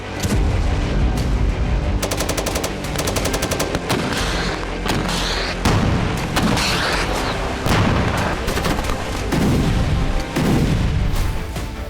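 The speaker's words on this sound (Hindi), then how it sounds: "ये धमाके, ये तबाही" Heavy gunfire and artillery from the war in Ukraine: rapid machine-gun bursts, repeated booming blasts and dense volleys crowd together, loud and continuous with no voices.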